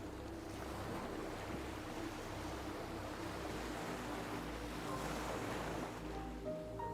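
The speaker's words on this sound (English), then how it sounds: "consistent waves roll along the headland" Ocean waves roll in at the Arugam Bay surf break on Sri Lanka's east coast, a continuous deep rumble of surf mixed with wind noise, steady and fairly faint throughout.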